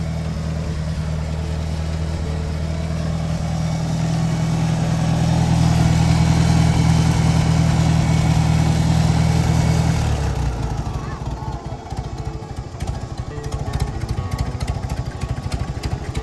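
A 1964 Farmall 140 tractor engine runs steadily at low idle, a loud, continuous low rumble that drops and becomes rougher partway through, with voices talking over it.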